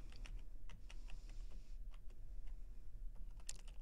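Quiet, close tapping on a computer keyboard, with quick irregular keystrokes running on for a few seconds over a faint room hum.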